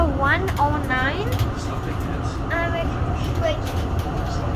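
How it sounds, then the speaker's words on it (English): Inside a moving tram, number 109, a steady low rumble of the ride runs throughout, joined by a string of rising electronic tones near the start and again later, with people talking. "We have entered the tram number 109."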